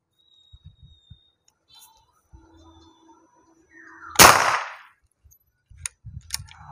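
A single sharp shot from a BOCAP ONYX full-CNC air rifle during a velocity test cracks out in near silence, followed by faint rustling and handling noises.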